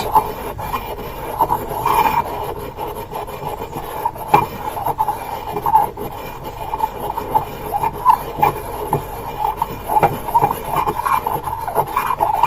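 Fine powder ground in a glass mortar gives a steady, close rasping scrape with small irregular strokes and brief louder scuffs throughout, and no talking.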